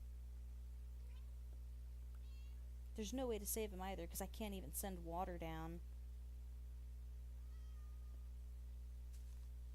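A Minecraft cat meows in a sequence of several drawn-out, whiny cries, fairly loud and close, while a person talks quietly before and after.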